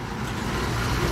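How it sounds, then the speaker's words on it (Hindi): Steady, dense road traffic on a busy street outside a pipe factory in India, a continuous broadband rumble of passing cars and trucks with no breaks or talk. "काफी ट्रैफिक भी यहाँ पे रहता है"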